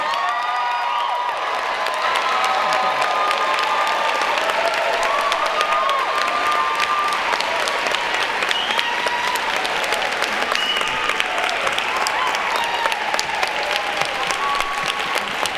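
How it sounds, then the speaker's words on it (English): An audience at a Northeast Tennessee gubernatorial debate claps for the candidates in sustained, dense applause, loud and even throughout with a few scattered cheers mixed in. "you can applaud them again too"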